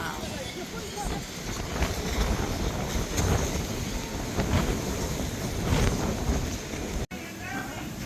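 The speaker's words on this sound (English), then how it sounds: "quite windy" Strong wind buffets the microphone on a seaside pier, a constant loud roar that rises and falls in gusts, with a short dropout near the end.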